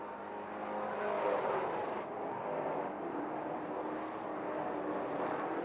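Race cars roaring along the back straightaway at Utica-Rome Speedway during a Thunder on the Thruway event, a dense, sustained engine drone from a distance with a slight swell as the pack passes.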